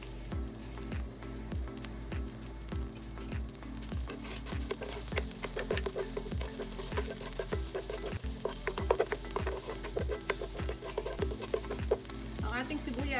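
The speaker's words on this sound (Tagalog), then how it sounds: "In the same pan, magigisa na tayo ng bawang at saka sibuyas." Garlic and onion sautéing in a pan for Kapampangan beef morcon, a steady close sizzle and crackle of frying throughout with faint stirring scrapes, growing slightly louder partway through.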